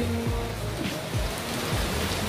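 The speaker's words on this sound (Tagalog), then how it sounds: "Yan, umuulan siya. Umuulan siya, guys." Rain falls steadily at a resort in Cebu, a constant even hiss of drops on surfaces with no break.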